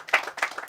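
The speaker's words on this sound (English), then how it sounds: "I would like you to give them a round of applause." A brief burst of clapping, a few hands striking in quick, uneven succession at close range.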